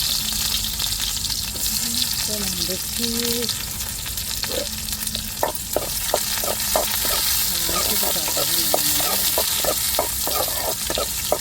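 Onion frying in hot oil for a tuna fish curry, a steady sizzle with scraping stirs and a run of short tapping clicks of a spoon against the pan in the second half, no talking.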